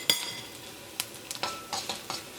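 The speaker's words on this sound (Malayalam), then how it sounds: "അപ്പോൾ മഞ്ഞൾപ്പൊടി ഇതിനകത്ത് കിടന്നിട്ട് നന്നായിട്ട് മൊരിയണം" Onions frying in a pan with turmeric powder and curry leaves for a bitter gourd curry, heard as a steady close sizzle broken by a few sharp spoon scrapes and stirring clinks, with no talking.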